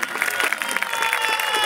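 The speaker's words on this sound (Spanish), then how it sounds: "Sol, el aplauso para la amiga de Suárez." Audience applause at a live comedy show in Mar del Plata: a dense, steady wash of many hands clapping throughout, moderately loud, with some crowd voices mixed in.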